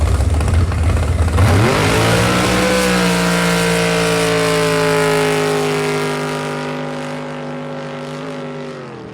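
Big Block Chevy V8 fitted with dual carburetors revving hard, the engine note climbing sharply then holding a steady high-rpm roar before easing slightly at the end, loud and close with no talking.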